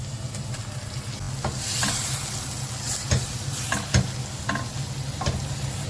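Mushrooms for a pepper masala fry in a pan with onion and garlic, giving a steady soft sizzle broken by several sharp scraping strokes of a spoon stirring, with no talk.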